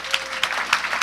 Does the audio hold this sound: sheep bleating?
no